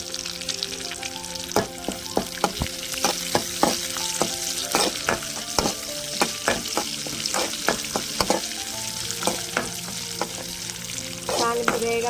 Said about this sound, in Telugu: తాలింపు వేగాలండి బాగా